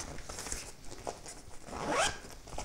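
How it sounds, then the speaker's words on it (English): A zipper is pulled open on a Glow EZLock softbox, a quick, close rasping zip that rises to a bright peak near the end, with no voices. "Open up the zipper access."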